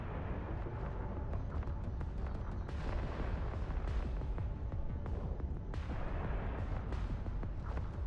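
Ship guns fire in the space game Eve Online, a relentless barrage of heavy booms and blasts that overlap continuously, loud and close throughout.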